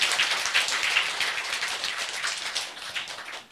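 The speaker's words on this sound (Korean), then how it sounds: "여러분 뜨거운 박수 부탁드리겠습니다." Dense, continuous audience applause at an indoor gathering, loud and steady for several seconds with no voices over it, easing off slightly at the very end.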